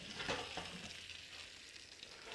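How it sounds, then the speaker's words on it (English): Grilled oysters topped with jalapenos sizzle and hiss steadily on a hot grill, a close, even frying crackle with a brief louder burst near the start and no talking. "They are hot and they are sizzling."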